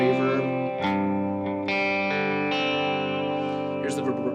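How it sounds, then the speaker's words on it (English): Electric guitar chords are struck several times, each one trailing into repeating echoes and a washy reverb tail that blends the notes together. "A little bit of delay and reverb."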